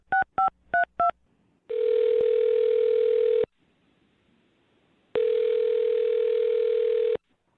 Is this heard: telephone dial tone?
yes